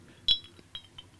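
Whisky glasses of Paul John Indian whisky clink together in a toast, one bright ringing chink followed by two lighter taps, close and clear against a quiet background.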